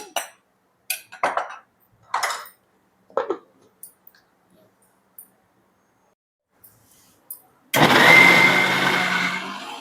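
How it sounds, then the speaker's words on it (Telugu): Several short clicks and rattles, then a loud mixer grinder grinding mango pieces roars to life and runs steadily to the end. "మిక్సీలో వేసుకొని గ్రైండ్ చేసుకోవాలి"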